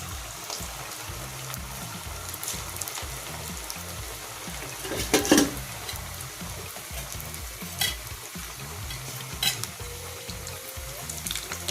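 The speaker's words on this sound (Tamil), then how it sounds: "இதே மாதிரி தான் எண்ணெயில் பொரித்து எடுக்கணும்." Ravai kakara sooji sweets fry in hot oil with a continuous soft sizzle and bubbling, punctuated by a few sharper crackles and stirring clinks, close and steady with no talk.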